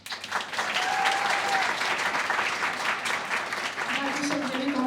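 A crowd claps for candidates at a student union election results event, a dense burst of applause running throughout, with voices and a few cheers audible beneath it.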